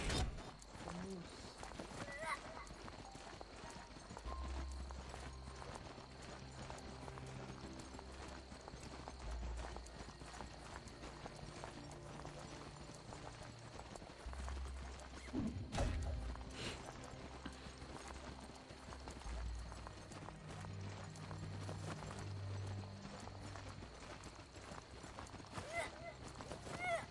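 A horse-like mount galloping in the Biomutant video game on PS5, a steady run of clip-clopping hooves under game music and a voice talking throughout.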